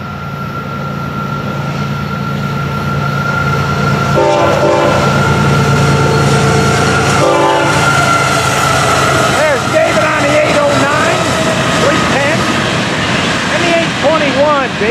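Florida East Coast freight train FEC105 with open-top hoppers near the head end rumbling past up close, loud and steady, its horn sounding in several long blasts with wheel clatter underneath and a person talking over it.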